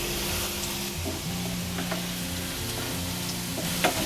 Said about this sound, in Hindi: आलू को हमने बीच बीच में चलाते हुए अच्छा गोल्डन ब्राउन होने तक फ्राई कर लिया है